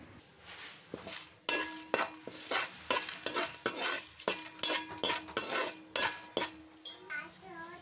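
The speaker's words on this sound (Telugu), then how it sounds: "ఆయిల్ వేడైన తర్వాత ఇందులో బిర్యానీ ఆకు, లవంగాలు, యాలకులు, స్టారు, ఇవన్నీ మసాలాలన్నీ యాడ్ చేసుకోవాలి" Bay leaf, cloves, cardamom and star anise frying in hot oil for vegetable pulao, an even sizzle under repeated metallic clinks and scrapes of a spoon stirring the pan, with no speech.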